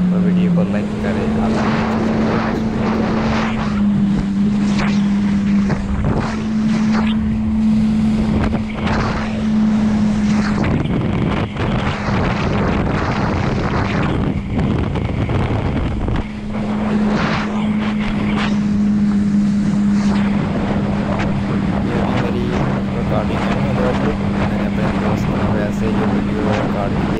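A jet ski runs across Attabad Lake in Hunza, its engine droning steadily under heavy wind buffeting while a voice talks at times.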